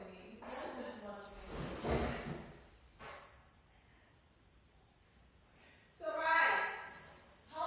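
A home door alarm sounds as a continuous, piercing high electronic tone through the whole stretch, while people talk loudly over it nearby.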